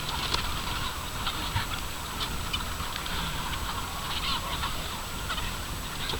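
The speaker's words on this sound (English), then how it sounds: "These chickens are not starved, they eat a lot, but they absolutely go crazy for this." A large flock of chickens in a feeding frenzy over soaked organic wheat, with busy clucking and rapid pecking taps running continuously at moderate volume, no one speaking.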